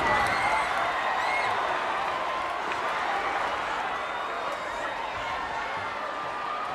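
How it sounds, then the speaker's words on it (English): Arena crowd at a 1980s pro wrestling tag match with Manny Fernandez, Dusty Rhodes and Magnum TA against the Russians, roaring in a steady, loud, broad wash of cheering and applause for the full stretch. "The roar, USA from the crowd, as the Bull is back to the corner by Ivan K"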